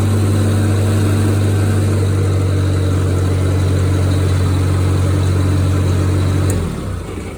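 A Cub Lo Boy 154 tractor engine idles steadily and loud nearby with a low, even drone, then shuts off near the end and winds down to quiet.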